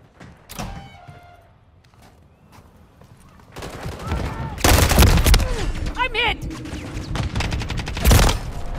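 Gunfire in the video game MechWarrior, with scattered shots giving way to heavy, sustained bursts and rapid fire that grow louder and denser, mixed with mechanical clatter and voices.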